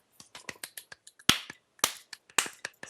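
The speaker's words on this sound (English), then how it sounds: "Slow golf clap of the evening." A slow golf clap: scattered, sparse hand claps and snaps spaced out irregularly, each crisp and sharp, a few louder ones standing out against near silence between.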